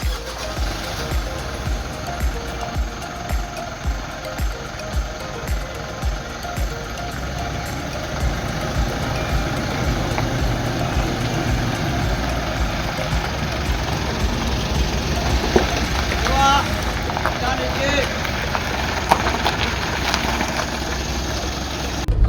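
A Pajero Sport Dakar's engine idles steadily at dusk on an unlit road, a low rumbling hum with some faint knocking, with occasional background noises layered over it.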